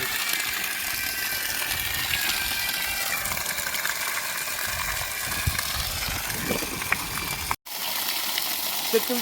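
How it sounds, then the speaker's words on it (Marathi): A steady gush of water pours continuously from a borewell, with a low solar pump motor hum underneath, broken by one brief dropout near the end. "ह्या बोरवेलीला बसलेला सोलर पंप आहे पाणी पाहून घ्या"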